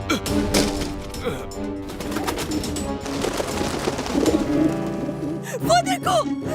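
Soft pigeon-like cooing mixed into a busy, dense backdrop of cartoon music and sound effects, with a few brighter calls near the end.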